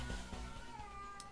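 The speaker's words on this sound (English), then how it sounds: "I'm sorry if you can hear my cat yowling in the background." A domestic cat yowls faintly in the background indoors, giving a short, drawn-out meow.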